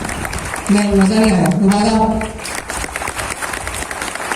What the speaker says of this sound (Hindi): जरा अपने तालियां बजा के बताएं भाई पीछे वालों।